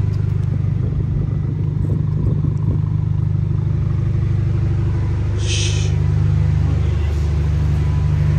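A Kia Stinger 2.0 Turbo fitted with a DC Sports mid pipe idles nearby, giving a steady, deep exhaust rumble throughout with a light mechanical clatter on top.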